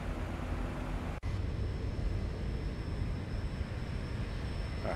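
Steady, soft jet engine drone heard inside a cockpit in the Zibo Mod flight simulator, a continuous low rumble with a brief click early on.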